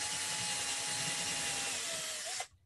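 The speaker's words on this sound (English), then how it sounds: "Let me know if you hear the drill too much." A power drill bores into bamboo for a bridge build, a steady high whirring hum held at constant speed before cutting off abruptly near the end, with no one talking.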